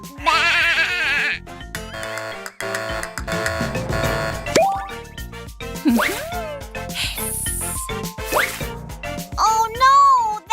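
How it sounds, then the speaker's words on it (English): Cartoon-style sheep bleats from a children's animal sound game, several loud wavering calls over bright background music with chimes and effects. "This is the sound of a fluffy sheep."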